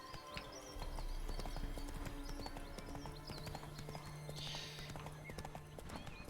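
Hooves of Geralt's horse Roach clip-clop at a steady trot in The Witcher 3, close and continuous with a brief whinny in the middle, over a low droning game soundtrack.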